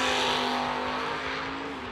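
A small-block Camaro and a Mustang drag racing at Gainesville Raceway give a loud, sustained engine roar close by, holding a steady tone that eases off slightly as it ends, with no voices over it.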